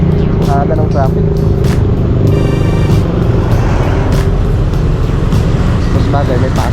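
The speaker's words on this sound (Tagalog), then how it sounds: "Ang aga ng traffic." Morning road traffic surrounds the listener with a continuous low engine rumble and passing vehicles, loud and close, while voices talk over it.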